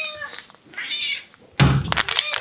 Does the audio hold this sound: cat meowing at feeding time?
yes